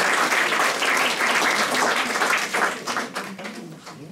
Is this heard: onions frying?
no